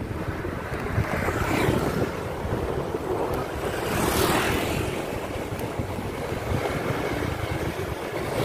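Steady sea surf breaking at the seaside, a broad continuous wash of waves with strong wind buffeting the microphone, loud and close throughout with no talking.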